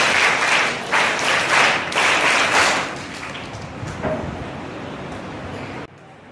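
An audience at a school annual function claps loudly for a few seconds, then the applause thins and fades out.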